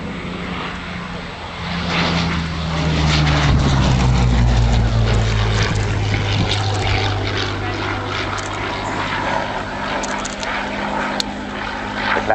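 A propeller fighter aircraft flies a victory roll at the Dunsfold Wings and Wheels airshow in 2009, its engine roaring loud and close, then swelling and shifting in pitch as it passes, while a commentator talks over it.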